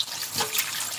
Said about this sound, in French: je me rince la main